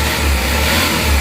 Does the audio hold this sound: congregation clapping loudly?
no